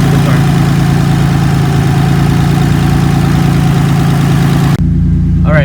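A Maserati Biturbo fitted with twin air-to-air intercoolers and an added oil cooler idles loud and steady with a low, even rumble up close, then cuts off abruptly near the end, leaving a brief faint sound.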